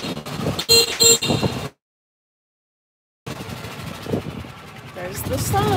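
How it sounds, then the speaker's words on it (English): A couple of short, bright golf cart horn beeps sound near the start amid engine hum and talking, followed by a sudden silence, then more rumbling and voices. "You can honk for Sheila."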